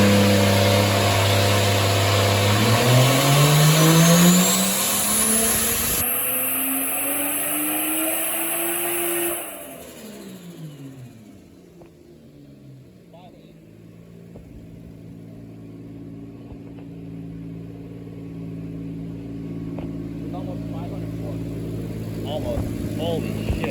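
Toyota Mk4 Supra on a dyno, its engine climbing in a loud rising rev through the gears, then abruptly backing off and winding down into a quieter settling rumble while people talk.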